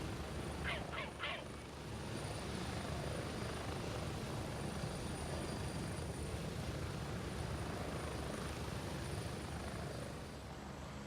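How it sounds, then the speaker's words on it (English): A helicopter in the video game Gray Zone Warfare keeps up a steady, dense rotor-and-engine roar for the whole stretch, loud and even, with a few short chirps near the start. "All right, chopper's gone."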